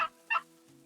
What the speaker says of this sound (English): Looks like that flock of turkeys over there is slowly working their way in.